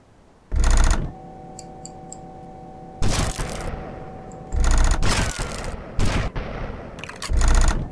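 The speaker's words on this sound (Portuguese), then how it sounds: "Descarreguei a munição" Video-game gunfire in GTA Vice City Stories as a weapon empties its ammo: loud, rapid bursts of shots in about six separate volleys with short pauses between them, close and sharp.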